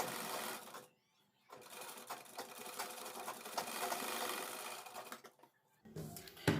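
A sewing machine runs a loose basting stitch along a kurti collar backed with buckram, whirring steadily close by, stopping briefly near the start and again near the end before starting up once more.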